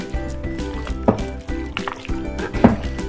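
Chicken pieces with cut slits being mixed by hand in wet marinade masala, giving close, squishy, slapping wet sounds in an uneven rhythm with a few sharper squelches.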